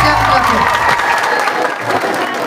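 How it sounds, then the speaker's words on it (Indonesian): Concert audience applauds and cheers at a live anniversary show, loud clapping right from the start that thins slightly over a couple of seconds while voices and music murmur underneath. "Boleh saya minta tepuk tangan yang paling meriah nih kita ya."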